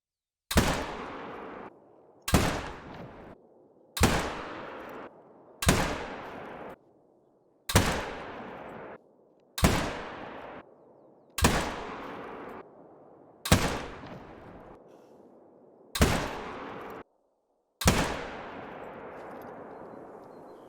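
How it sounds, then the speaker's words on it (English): Ten Malmer 7mm Magnum rifle shots fired at a 300-meter range target in theHunter: Call of the Wild, each a loud sharp crack with a decaying tail, spaced roughly two seconds apart, with no talking. "That is 10 shots from 300 meters"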